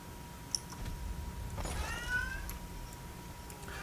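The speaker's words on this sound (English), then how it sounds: "Nugget is such a sweet boy. He is, like, my favorite cat." A house cat named Nugget gives a single drawn-out meow at close range, rising over a steady low room hum and a few faint clicks.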